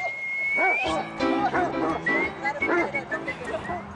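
Dogs at a large outdoor dog daycare yip and bark in short bursts with some whining, mixed with a high whistle and lively voices talking over them.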